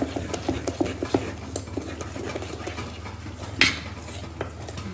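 Sev khamani batter being mixed in a bowl, with steady rhythmic scraping and clinks of a spoon against the dish, close and moderately quiet, one sharper knock near the end.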